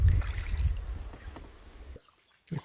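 A canoe paddled on the Glenelg River gives a few close splashy strokes over wind and water noise, then drops to near silence before one last brief splash.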